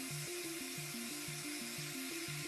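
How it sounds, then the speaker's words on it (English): A drill boring into an object, heard as a steady close-up grinding rasp with a regular pulsing tone that repeats about every third of a second, with no talk. "he starts to drill into it"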